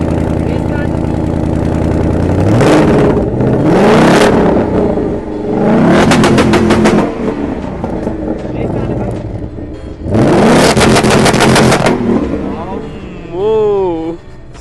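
A 2024 Ford Mustang GT with an active exhaust system roars through repeated loud throttle blips, with three or four sharp revving bursts rising over a deep idle and people talking nearby, recorded close to the exhaust.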